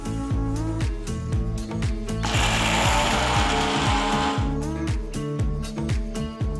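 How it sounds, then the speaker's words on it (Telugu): A kitchen mixer grinder whirs loudly for a few seconds, grinding a roasted coconut masala mix in its jar, with rhythmic background music running underneath. "వీటన్నిటిని కలిపి ఒక మిక్సర్ జార్లో వేసి ఒక్కసారి రుబ్బాలి"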